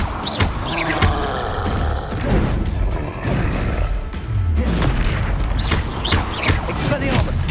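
Repeated Confringo blasting-spell explosions from Hogwarts Legacy boom in heavy, rumbling bursts amid continuous spell-casting whooshes and crackling combat effects, loud and dense throughout the duel.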